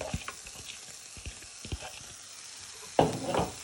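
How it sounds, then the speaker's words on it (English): Vegetables and chorizo sizzling in hot oil for a Spanish tortilla, a soft steady frying hiss with faint pops, then a louder rustle and clatter as the pan is stirred near the end. "while your oil is nice and hot now, you want to put all your vegetables in and your chorizo"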